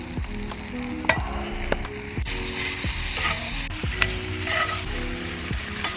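Shrimp fry in bubbling butter in a pan, a close, busy sizzle broken by sharp scrapes and clacks of a utensil stirring against the metal, with no voices.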